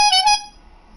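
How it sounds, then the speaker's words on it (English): A car horn sounded in the racing game Gran Turismo 7, one loud, brief, harmonic-rich honk with a slight stutter that cuts off within half a second, heard alone. "the AI are just moving out of the way whenever you honk at them"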